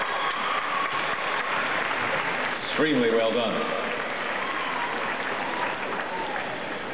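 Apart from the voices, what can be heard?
audience applause after the Suthiwara Ram School Band performance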